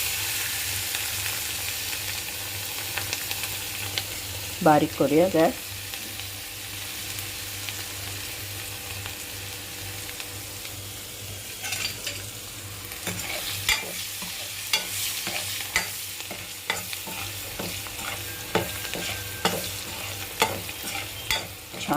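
Crushed garlic sizzles in hot tempering oil for dal palak while a spoon stirs it, giving a steady soft hiss with repeated scraping clinks, and a voice briefly speaks over it.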